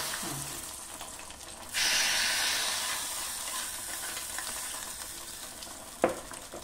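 Hot oggarane tempering is poured into a boiling dish, and a sudden loud hiss bursts out, then slowly fades into a softer simmering crackle, with a sharp clank from the utensil near the end.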